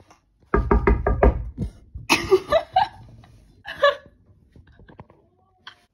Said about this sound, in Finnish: Täältä näkee suoraan tonne ikkunaan, niin mä aion kurkkaa ja koputtaa sinne.